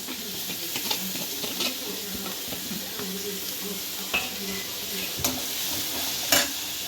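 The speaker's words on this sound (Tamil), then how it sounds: "போட்டிங்கன்னா வெங்காயம் சீக்கிரமாக வதங்கிடும்" Onions sauté in a pan for chicken gravy, a steady sizzle and hiss of frying with occasional scrapes and clinks of stirring against the pan, up close, with faint speech in the background.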